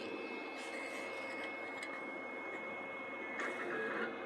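A Two Trees SP5 version 3 3D printer runs with a steady low mechanical hum and faint whirring, with occasional light clicks and ticks over a constant drone, no voices.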